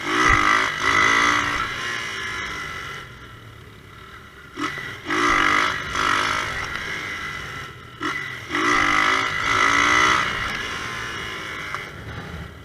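A 2004 Honda Titan 150 motorcycle engine revs hard in repeated surging bursts for a wheelie attempt, loud and close, rising and dropping several times with no talk.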